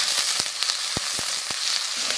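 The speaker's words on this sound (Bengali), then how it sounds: "তেল গরম হয়ে গেছে পেঁয়াজ দিয়ে দেব" Onions sizzle in hot oil in a wok during a rural egg and soybean curry, a steady bright hiss with a few sharp low knocks of a spoon against the pan.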